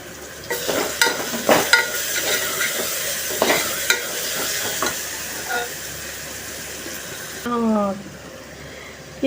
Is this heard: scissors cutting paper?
no